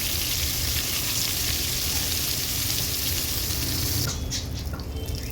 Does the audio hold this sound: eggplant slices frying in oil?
yes